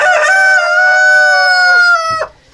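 A Naked Neck hen gives a loud, sustained, drawn-out call with a strong tonal quality while laying an egg, close to the listener, then cuts off abruptly near the end.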